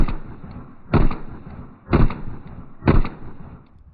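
Three loud pistol shots fired at a target 5 yards away, evenly spaced about a second apart, each a sharp close bang with a short echoing tail.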